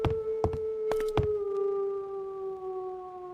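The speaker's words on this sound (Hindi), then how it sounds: "मुझे कुत्ते की आवाज आई" Infected dogs in a zombie survival video game let out one long, steady howl that holds a single drawn-out tone. A few sharp taps cut in near the start, and the howl slowly fades.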